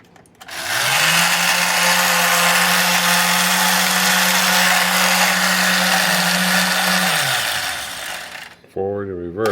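A restored ITO 18-inch Japanese wooden toy speedboat switches on and its small electric motor whines loudly and steadily for about eight seconds. It winds down and stops, and a voice follows at the end.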